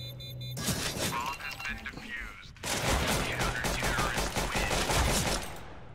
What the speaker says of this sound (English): Wow, I missed all those shots.